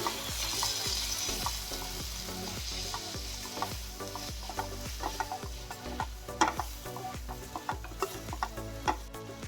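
Leftover rotli snack being stirred with soy sauce in a sizzling pan, with a steady frying hiss under repeated scraping and clinking strokes of a spoon against the metal, close and clear, with no voices.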